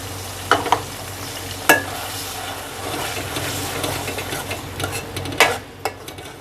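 Onion paste with ginger-garlic paste fries in ghee over medium heat, a steady close sizzle punctuated by several sharp clinks and scrapes of a spoon stirring in the pan, with no talking.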